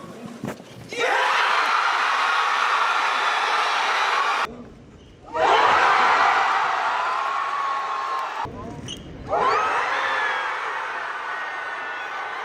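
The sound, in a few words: crowd cheering at Robert Downey Jr Doctor Doom reveal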